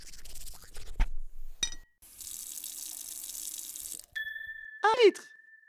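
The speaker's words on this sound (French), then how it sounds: "on va calculer combien d'eau vous utilisez pour vous laver les dents" Tap water runs into a bathroom sink during tooth brushing, a steady close hiss lasting a couple of seconds, with clinks and a brief high squeak around it.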